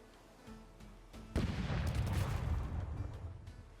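A single heavy boom bursts out after a quiet stretch, followed by a loud rumbling roar that slowly fades: a missed cannon shot in the pirate game Rogue Waters.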